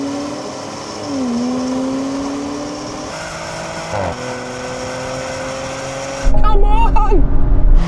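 A BMW X3, Porsche Macan GTS and Mercedes GLC 43 launch from a standstill in a sporty manual mode, engine drone climbing in pitch and surging louder near the end while someone shouts excitedly over it.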